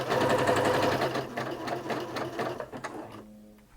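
A Singer Quantum Stylist 9960 sewing machine runs a zigzag stitch with a fast, steady mechanical whir and rattle up close. The motor slows and stops near the end.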